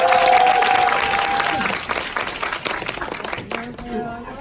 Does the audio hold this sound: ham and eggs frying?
no